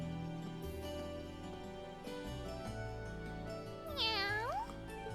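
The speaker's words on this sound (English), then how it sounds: "Good kitty." In the video game Trails of Cold Steel, a cat meows over steady background music, with one clear rising meow standing out near the end, close and distinct.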